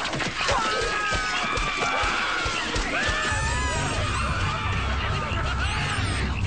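Cartoon characters scream in panic, overlapping high wavering cries over crashes and a busy, chaotic mix, with a low steady rumble coming in for the second half.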